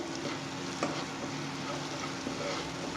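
Ginger and green chilies fry gently over low flame in a pan for a paneer curry, with a continuous soft sizzle and faint stirring scrapes and no talking.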